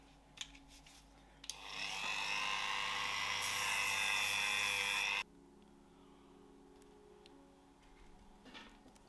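Small rotary sanding tool buffing the edge of a leather rolled handle, a steady high whine running about four seconds alone before cutting off abruptly into quiet.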